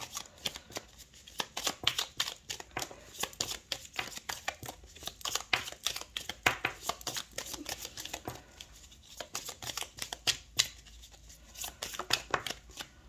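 Tarot cards being shuffled and laid out for a reading, a dense run of quick papery riffles and flicks repeating close and steady, with no talking.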